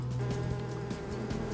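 Bees hum in a close, steady drone during a suburban hive removal south of Brisbane, a dense ball of bees clustered nearby, with no talk over the sound.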